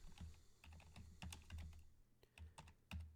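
Quick, uneven keystrokes on a computer keyboard, close and fairly quiet, come in short bursts with brief pauses while text is typed into a design program.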